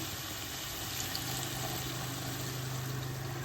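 Steady, continuous rush of chana dal soaking water pouring into a pot, close and fairly loud, with no talking.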